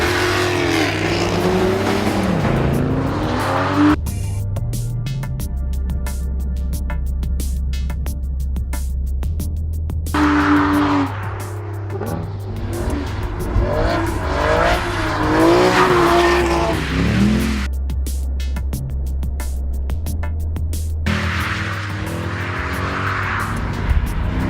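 A Jaguar XKR S GT, an Aston Martin Vantage V12 S and a Mercedes C63 Black Series race hard: loud engines rev up and down, gear changes are heard, and tyres squeal in bursts. The engines rise and fade as the cars pass.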